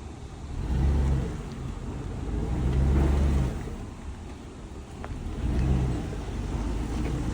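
A Chevrolet K1500 pickup truck engine, jump-started at a towing auction, idles and rises in a few low rumbling surges as the truck is moved forward and backward, heard up close with no talk.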